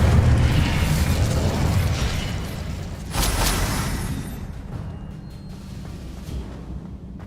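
Incendio fire spell cast in the Hogwarts Legacy video game, a loud, sustained roaring whoosh with a burst midway, then a fading crackling tail and a few small pops.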